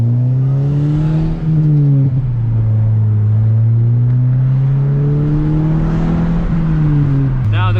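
A manual Mazda 3 fitted with an aftermarket exhaust accelerates hard, its engine note droning loud and steady from inside the cabin as it climbs through the revs, with a brief dip for a gear change and a sharp shift near the end.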